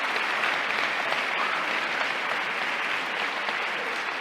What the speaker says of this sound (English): So give yourselves a great round of applause.